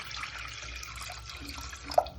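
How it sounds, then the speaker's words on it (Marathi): Water pours steadily into a pressure cooker being set up in a home kitchen to steam dhokla, a faint, even trickling rush that is heard alone. "पाणी टाकूया कारण की आमच्याकडे ढोका पात्र नसल्यामुळे आम्ही कुकरमध्येच लावतोय"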